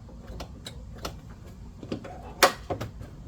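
A faulty forward-reverse solenoid clicking without engaging, a series of light, irregular clicks with one sharper snap, close by over a low background hum.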